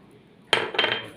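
Garlic and peanuts stirred in a dry pan with no oil, a sudden scraping clatter of utensil against metal after a moment of quiet, then a second burst of rattling.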